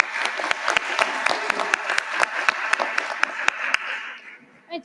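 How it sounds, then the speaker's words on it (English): An audience at a public hearing applauds, with dense steady clapping and distinct sharp claps standing out, fading near the end. "So I'm going to give you a round of applause"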